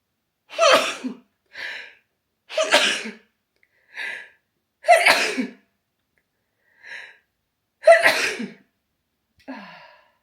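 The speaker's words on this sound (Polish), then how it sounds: "Ja nigdy nie kichnę jeden raz." A sick woman with a cold sneezes over and over: four forceful, close sneezes, each followed by a softer breathy catch or sniff, spaced about two seconds apart against silence.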